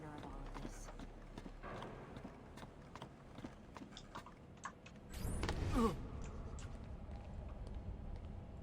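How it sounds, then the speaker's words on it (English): Horses clip-clopping on the streets of Venice in Assassin's Creed II, a faint rhythmic patter of hooves under a soft ambient bed, with a brief louder whoosh partway through. "Oh, horses."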